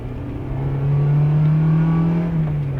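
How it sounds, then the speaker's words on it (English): A 1990s Honda Civic EF pulling in second gear, its engine droning steadily and swelling slightly in pitch as it accelerates, heard from inside the car with no talking. "I'm going to give it some second gear just a little bit."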